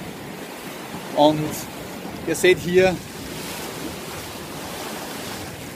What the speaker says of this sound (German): ihr seht hier, wie die Wellen gegen den Stein schlagen